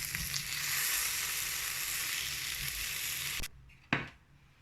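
Chicken pieces frying golden brown in a frying pan, a loud, dense, continuous sizzle close up that cuts off abruptly near the end, followed by a brief clatter and quieter crackle.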